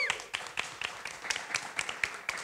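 Applause for a band: a small group clapping in a loose, uneven rhythm of distinct sharp claps, fairly quiet and close, with no talking over it.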